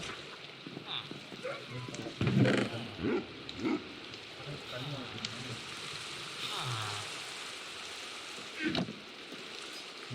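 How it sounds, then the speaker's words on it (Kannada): Steady rain falls in a Minecraft world, a soft continuous hiss with a few louder patters, while a voice talks quietly over it. "ಮಳೆ ಬರ್ತಾ ಇದೆ"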